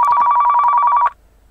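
A telephone rings as a new customer calls in the Car Mechanic Simulator 2015 garage, a single fast electronic trill-burst lasting about a second, then cut off to near silence.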